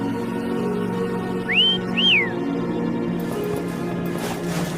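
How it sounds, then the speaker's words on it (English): In the video game Wuthering Waves, a player character whistles to call Foam: two short rising-and-falling whistle notes over a steady ambient drone, followed by quieter background sound. "Try whistling."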